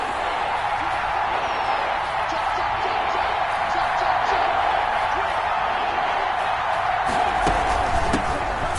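A stadium crowd in an American football video game roars steadily and loudly ahead of a big third down, a dense, continuous wash of cheering with occasional whoops.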